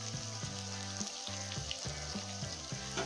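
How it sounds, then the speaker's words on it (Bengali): Spices fry in hot oil in a pan for an egg tadka, giving a steady close sizzle broken by regular stirring scrapes, with no voices. "মশলাগুলো খুব সুন্দর আমার কষানো হয়েছে, তাই জন্য সুন্দর স্মেলও দিচ্ছে।"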